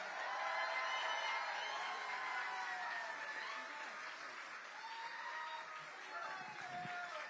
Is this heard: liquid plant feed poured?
no